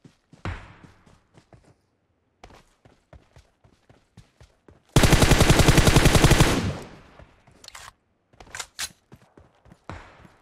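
Gunfire in the PUBG Mobile video game: scattered single shots, then a loud continuous automatic burst lasting about two seconds, followed by more sporadic distant shots.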